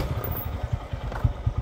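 A broken-down scooter's engine runs with a rough, rhythmic low putter and faint clatter, steady and moderately close, with no talking over it.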